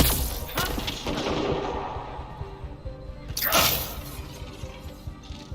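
Gunfire in the video game Mass Effect Andromeda: sharp shots and impacts crack out near the start and again around the middle with a shattering burst, over a continuous rumbling combat background.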